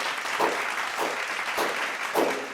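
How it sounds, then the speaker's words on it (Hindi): Audience applause greets a speaker at a national achievement day celebration for award winners, a steady wash of clapping throughout with a few louder swells. "जोरदार तालियों के साथ स्वागत करते हैं हमारे आदरणीय श्री कुश सर का"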